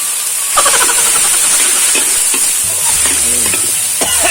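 Canned fish being stir-fried for a Thai basil stir-fry: a loud, constant hot-oil sizzle with spatula scrapes and stirring strokes over the pan, no talking.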